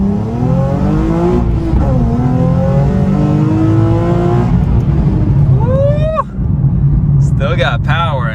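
Nissan Z sports car pulling hard through the gears from inside, a loud engine note rising in pitch several times with brief shift breaks, then a sharp high rev, while a person speaks over it.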